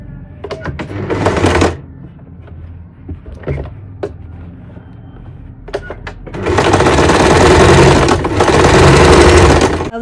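Electric sewing machine stitching the neck binding of a girl's kurti, two loud sustained runs of whirring stitches separated by brief handling clicks and pauses.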